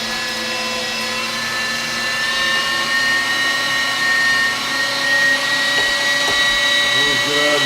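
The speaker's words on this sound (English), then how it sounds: "So, getting the moose meat through the grinder the first time." A powered meat grinder runs steadily while moose meat is fed through it, a loud continuous motor whine with a droning hum and slight pitch shifts as the load changes, sustained throughout without pause.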